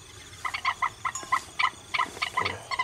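Recorded bird call broadcast from a loudspeaker to lure swamphens, a run of short, evenly spaced clucking calls repeated in quick bursts at moderate loudness against a faint hiss, with no talking.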